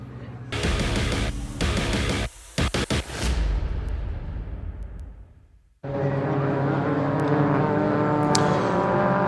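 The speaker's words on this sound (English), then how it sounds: "The cars are out on their green flag lap, ready for this 15-minute race for the Virtue Mini Challenge Trophy." Caterham race cars on their green flag lap at Croft circuit, before a 15-minute race, roar loudly past in a close bunch, fade away, then a fresh steady engine drone rises and holds; no talking.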